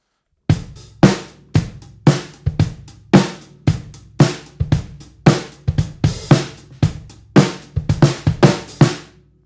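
A steady drum groove with a punchy low drum alternating with a thick, layered snare crack from two snare drums struck together, about two hits per second, loud and unaccompanied.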